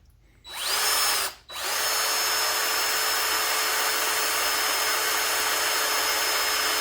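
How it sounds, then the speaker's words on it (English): Power drill boring through a metal motorcycle highway peg mount on a Sportster: a brief high whine, a short pause, then a long sustained steady motor drone at close range. "we'll just drill it like we did the other one and try not to break the drill bit this time."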